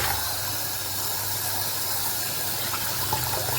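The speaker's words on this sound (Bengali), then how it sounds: "পটলগুলোকে আগে ধুয়ে নিতে হবে।" Sliced pointed gourds (potol) are rinsed under a running tap in a home kitchen, giving a steady, close hiss of flowing water that splashes faintly throughout with no talking.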